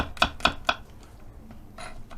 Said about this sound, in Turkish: Sarımsaklarımızı böyle büyükse böleceğiz. Küçük küçük doğrayacağız.